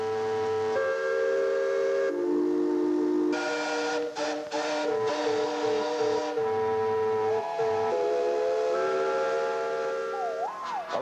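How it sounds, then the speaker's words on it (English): Loud steam whistles blow in overlapping sustained tones, several pitches sounding together and shifting, with short breaks between blasts. "Add a little more steam and you're ready for a whistle blow."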